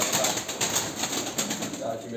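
Pigeons in a loft, just fed, give soft cooing and faint wing flutters close by, a low murmuring sound that persists under someone talking.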